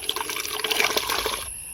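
Water splashes and churns steadily while being mixed for newly hatched chicks' drinking water, a close, continuous liquid rush that stops abruptly after about a second and a half.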